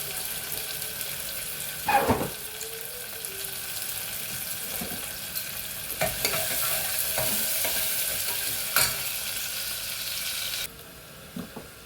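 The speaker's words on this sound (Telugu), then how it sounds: "ఉల్లిపాయలు బాగా వేగిపోయాయండి" Onions frying in a pan in a home kitchen, a steady hiss of sizzling with occasional clinks of stirring and a brief tap-water sound, continuous at moderate level with no talk.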